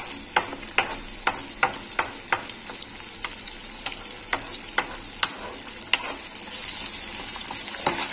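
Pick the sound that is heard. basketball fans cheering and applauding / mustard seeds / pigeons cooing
mustard seeds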